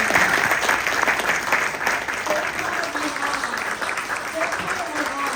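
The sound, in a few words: audience applauding the candidates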